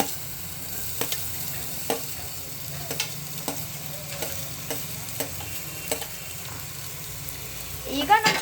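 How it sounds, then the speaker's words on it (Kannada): Onions fry in a hot pan for saagu, giving a steady, close sizzle that is punctuated by regular scrapes and taps from stirring, which grow busier near the end. "ಈಗ ನಾನು ಆನಿಯನ್ ಹಾಕ್ತೀನಿ"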